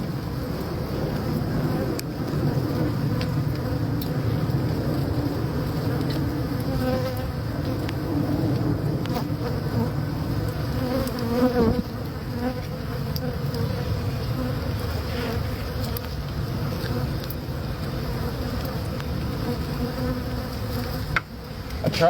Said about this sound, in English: A couple of bees wanted to get a close-up.